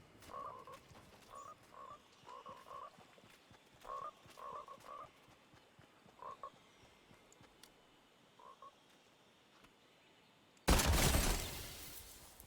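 Frogs croaking in the video game Fortnite, short paired croaks repeated at uneven intervals and fairly faint, ending in a sudden loud burst of noise.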